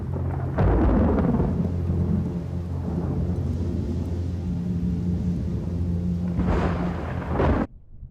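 A night thunderstorm rumbles with heavy rolling thunder and steady rain, loud and continuous, swelling in two strong peaks before cutting off abruptly.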